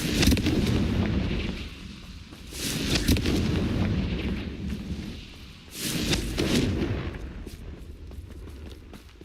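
Fiery Confringo spell blasts in the Hogwarts Legacy video game boom out in three heavy, rumbling explosions spaced a few seconds apart, loud and close, with crackling debris tails.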